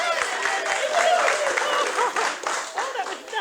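Studio audience of a 1948 radio variety show applauding after a child's nursery rhyme recitation, a dense, lively burst of many hands clapping that stays strong and then thins slightly toward the end.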